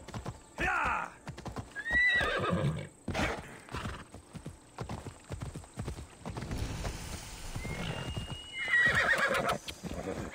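A horse in Assassin's Creed Odyssey clip-clops with hooves, whinnies and snorts in loud bursts, with a player talking over the game sounds.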